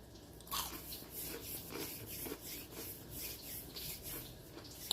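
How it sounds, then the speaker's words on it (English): Close, crisp crunching as a very crunchy bite is chewed, repeated in a steady rhythm over a soft background hiss, with no talking. "That was a really crunchy piece"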